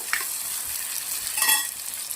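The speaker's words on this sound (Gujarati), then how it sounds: "ટામેટાને પણ આપણે ડુંગળી જોડે સરસ 2 મિનિટ શેકી લેવાનું છે" Chopped tomato and onion frying together in a pan, a soft steady sizzle with faint stirring scrapes, close and continuous with no talking.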